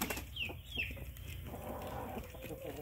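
Hens being fed chayote, giving soft clucks and a couple of short squawks over a busy farmyard background, with other birds calling faintly.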